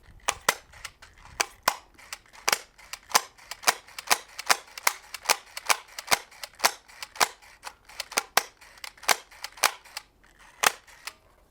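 A Nerf GelFire blaster shoots gel balls in a long, fairly regular series of sharp snapping pops, each one loud and close, with brief gaps between shots.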